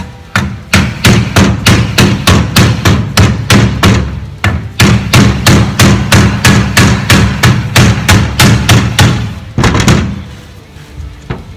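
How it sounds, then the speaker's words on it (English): A plastic hammer strikes sheet metal to straighten a curved radius, a rapid steady series of loud close blows with a couple of short pauses, ending in a few quicker taps. "again I can just use my plastic hammer"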